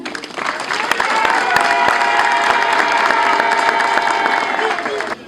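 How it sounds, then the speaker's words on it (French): A crowd at a public meeting gives loud, sustained applause with scattered cheers, rising quickly, holding steady for several seconds, then tapering off near the end. "je vous prie de l'applaudir"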